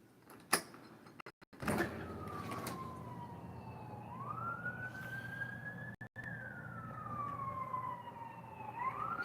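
Police car siren sweeping up and down as it passes on a street, loud and continuous with pitch glides, after a few brief clunks at the start; no talking.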